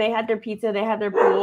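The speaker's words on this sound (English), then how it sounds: "Sorry for the dogs barking." Dogs bark in short, yappy bursts at home while a person keeps talking over them; the barks are mixed tightly into the speech and end in a louder stretch.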